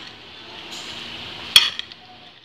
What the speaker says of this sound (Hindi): अब हम इसको मिक्स कर लेते हैं।